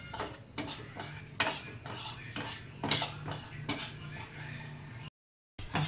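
Semolina (rava) dry-frying in a pan, stirred with a metal spoon that gives repeated close scrapes and clinks against the pan in an uneven rhythm, with brief pauses between strokes.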